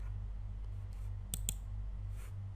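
Computer mouse clicks sound faintly over a steady low hum, with a couple of sharper clicks near the middle and no talk.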